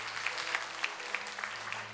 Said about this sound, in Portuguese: Então, Nossa Senhora merece mais palmas, mais forte.